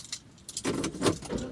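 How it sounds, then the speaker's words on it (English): Car keys jangle close up, followed by a car engine starting, a brief burst of rumbling noise. "let me turn the car on"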